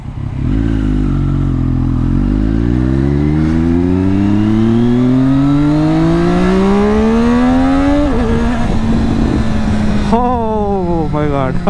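A motorcycle fitted with an Akrapovic exhaust revs loudly up close, its pitch climbing smoothly for several seconds, dropping back to idle, then blipping sharply again near the end.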